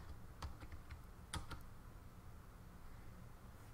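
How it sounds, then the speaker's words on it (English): Quiet typing on a computer keyboard, with a brief cluster of key taps at the start over a low steady room hum, then only the hum continues. "I'm going to type the word here's."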